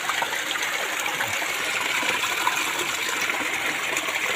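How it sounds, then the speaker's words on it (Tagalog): Water from a small waterfall in an untouched creek pours and splashes in a steady, continuous rush, close by and moderately loud, with no voices. "Bagsakan ng tubig. Yan, kataas. Mini waterfalls."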